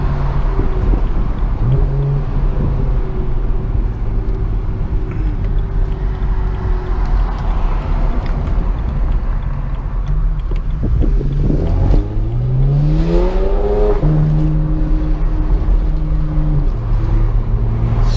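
A car with a dual-clutch transmission and Falken tires drives steadily with a constant low engine drone and road rumble, and engine pitch tones fall and rise in distinct steps near the midpoint as gears change, with no voices.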